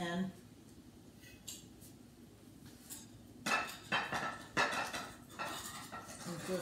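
Metal spatula scraping and clattering against a frying pan as matzah brie is lifted out, a series of sharp clinks and scrapes over a faint background sizzle.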